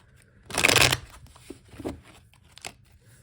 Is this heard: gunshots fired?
no